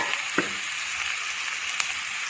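Onion and boiled, cut tapioca sautéing in a pan for tapioca bonda, a continuous close sizzle with a few brief spatula scrapes and clicks, no talk.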